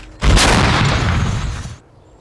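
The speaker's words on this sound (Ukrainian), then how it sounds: "Це британсько-австралійська гармата. л 119 назва." A single heavy blast from an L119 105mm howitzer booms close and loud, its roar rolling and decaying over a second or so before cutting off.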